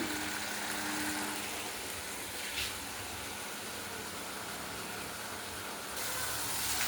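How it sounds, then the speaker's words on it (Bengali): Pabda fish curry simmering in a pan, a soft steady hiss and faint bubbling that runs on without a break, quiet and close with no talk. "মেখে এটা ফুটিয়ে নেবো ভালো করে।"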